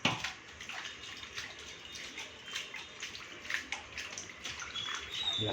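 Poha (flattened rice) being washed in water by hand, with soft splashing and sloshing repeating unevenly throughout, fairly close and moderately quiet, with no talking.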